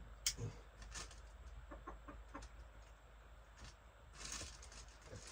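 Chickens clucking in short scattered bursts over a steady low background hum, with a sharper call near the start; no talking.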